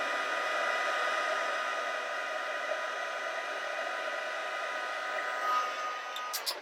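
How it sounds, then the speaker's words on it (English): A craft heat tool blows hot air onto embossing powder on a Christmas card ornament, giving a steady, close whirring hiss that holds evenly throughout and trails off near the end. "I'm just going to use my heat tool, and when I hit this with embossing or with heat, you'll be able to see the"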